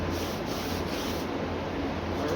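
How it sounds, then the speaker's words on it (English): Sandpaper scrubs steadily against an old car air cleaner being refinished, a dense close rasp with no pauses. "we started sanding this."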